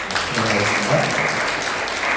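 Sustained applause from a church congregation welcoming visitors at a Sunday service, dense clapping from many people filling the room, with a faint voice murmuring underneath.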